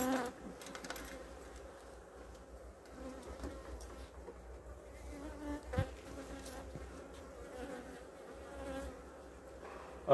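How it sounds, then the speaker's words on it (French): Black honey bees buzzing around a reinforced hive colony: a dense, continuous close-up drone of many bees with a few louder passes and faint handling knocks, with no talking. "pas mal d'abeilles noires qui sont venues, on va dire, renforcer cette colonie"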